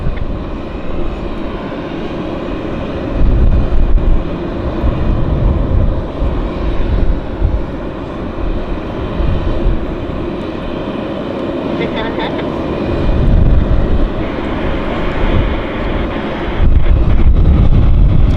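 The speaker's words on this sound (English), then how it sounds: "American Airlines 737, I guess that's an 8. 800 max." An American Airlines Boeing 737 MAX 8 at Vancouver airport, a loud sustained jet engine roar rising and falling over heavy wind buffeting on the microphone, with a voice talking over it.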